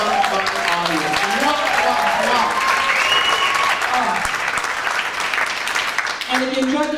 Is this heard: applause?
yes